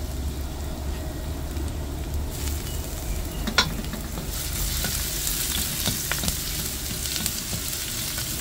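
Garlic sautés in a hot pan for a chicharo and kikiam stir-fry, giving a steady, close crackling sizzle that swells after a couple of seconds, with a few sharp clinks of a utensil against the pan.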